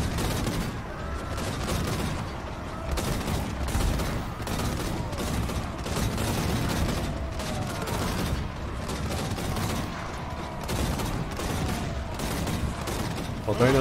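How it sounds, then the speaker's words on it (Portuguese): Cannon fire in the fantasy strategy game Total War: Warhammer II, a dwarf army's guns booming in a dense, continuous battle barrage of overlapping blasts and clatter, with faint voices under the din. "eu podia ficar ouvindo horas desse barulho desse canhão atirando"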